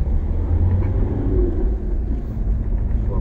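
A car pulls away in second gear on a street in Saint-Germain-en-Laye, heard from inside the cabin as a steady, loud, low engine rumble that holds even for a few seconds with no talk over it.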